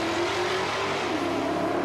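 A car speeding at up to 100 miles an hour along a country road, heading toward a farmer's tractor in an audio drama: a loud, steady, close engine roar that holds throughout with a slight rising whine.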